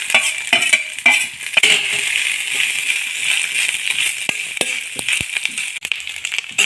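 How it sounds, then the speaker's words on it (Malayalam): Coconut pieces frying in ghee in a pan, giving a steady bright sizzle with clinking stirs and scrapes of a utensil, close and alone with no talk. "തേങ്ങാക്കൊത്ത് നെയ്യിൽ വറുത്തെടുക്കുന്നുണ്ട്"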